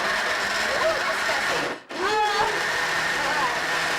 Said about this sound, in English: place in the blender, blend on high until it becomes a dog smoothie